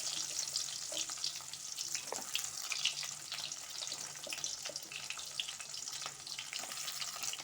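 Small onions (shallots) fry in hot oil with mustard seeds for a tamarind puli kuzhambu, making a steady, close, crackling sizzle throughout with occasional stirring scrapes.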